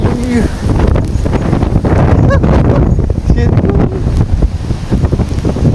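Strong cyclone wind sweeps a Hong Kong street lined with closed shops. Loud, constant buffeting gusts batter the microphone while a person talks through the roar.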